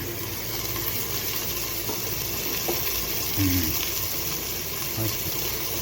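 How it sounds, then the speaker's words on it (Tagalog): Ginger sautéing in a pan for papaitan, a Filipino stew: a soft, continuous sizzle and hiss, close but low in level, with a few faint clinks of stirring. "Kunting gisa-gisa lang."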